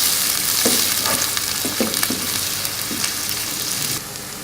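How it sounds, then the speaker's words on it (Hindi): Chopped onions sauté in a hot pan with garlic paste as part of a spicy mutton brain masala fry, giving a steady close sizzle broken by occasional stirring scrapes and clicks, with no voices. "अब हम इसके अंदर प्याज डालेंगे, चॉप किए हुए"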